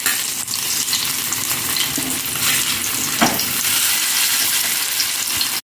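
Fish sizzling in hot oil in a pan for Kerala-style chatti choru, a dense, steady frying hiss with occasional spatters and a brief stir, close and loud throughout.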